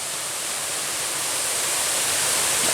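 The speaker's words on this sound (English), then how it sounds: "Another little waterfall." A small waterfall along the Superior Hiking Trail makes a continuous, even hiss of rushing water, close and steady, slowly swelling a little louder, with no voices.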